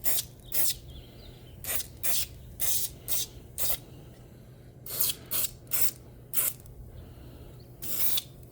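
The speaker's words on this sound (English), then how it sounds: "I'm going to use some Total Cycle Cleaner, spray down in here." Total Cycle Cleaner sprays onto a Harley-Davidson Sportster motorcycle engine in about a dozen short, sharp hissing bursts, close up, separated by brief quiet gaps with no talking.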